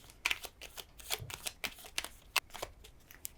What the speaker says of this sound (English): I'm going to pull a few Whispering Woods cards.